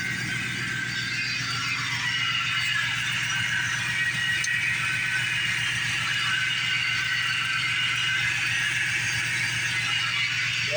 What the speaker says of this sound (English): Yeah, one of these pulleys are noisy.